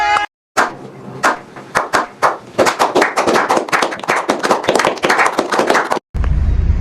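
A few people clapping in irregular sharp bursts for several seconds, close and loud, starting after a brief silence and cutting off abruptly at the end.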